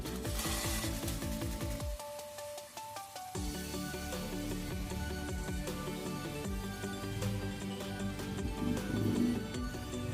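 Banana blossom chops dropped into hot oil fry with a soft sizzle beneath loud background music, the frying faint and partly masked.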